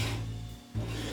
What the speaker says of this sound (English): I could actually make it work with sharpening it with a hand stone